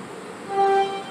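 A Siemens electric train pulls away from a Melbourne suburban station, its rising two-tone motor whine swelling briefly over steady platform ambience.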